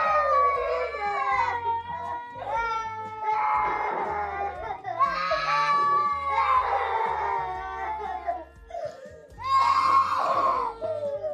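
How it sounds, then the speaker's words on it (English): Loud, drawn-out screaming plays back from a video, several wailing, howl-like bursts rising and falling over about eleven seconds. "Who's screaming?"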